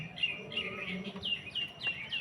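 Several birds chirping in quick repeated bursts on a rooftop, bright high tweets over a soft outdoor background.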